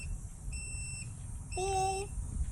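High-pitched electronic beeps from the controller of a 2020 STACYC Harley-Davidson Iron e16 kids' electric bike, two short tones followed by a longer, layered beep, over a low background hum.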